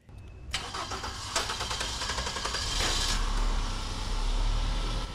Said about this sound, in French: il est parti pour démarrer, pour qu'on puisse contrôler, pour voir si tout va bien à ce niveau